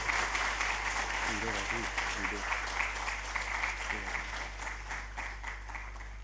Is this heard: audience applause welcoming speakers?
yes